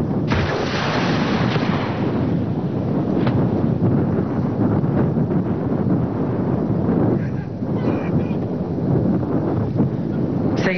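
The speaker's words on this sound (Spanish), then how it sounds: "23 milímetros, con una cadencia de tiro de 200 disparos por minuto, capaz de destruir los blancos a muy baja altura." 23 mm anti-aircraft gun firing bursts during a civic-military exercise outdoors, a dense continuous roar of rapid reports mixed with heavy wind noise, sustained and loud throughout.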